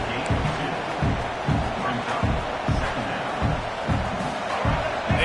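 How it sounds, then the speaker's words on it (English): College football stadium crowd at Arizona vs UCLA, a loud, continuous roar with rhythmic pulsing surges, like chanting or stomping, under a commentator's voice. "this crowd trying to help keep them there"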